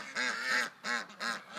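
Geese with goslings honk three times in quick succession, loud and close, each call a harsh nasal burst.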